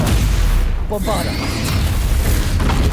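A Bombarda spell detonates in Hogwarts Legacy, a heavy booming blast buried in a dense, loud wash of game noise and effects, with a voice speaking over it.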